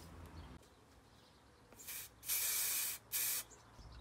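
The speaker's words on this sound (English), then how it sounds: "So I've now just got to spray all those and put them in." Two short hissing bursts from a spray can, one long and one brief, close and loud against a quiet background.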